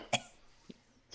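A voice imitates a creature coughing during a Dungeons & Dragons tabletop game, giving three short, sharp rasping bursts spaced apart over a quiet background.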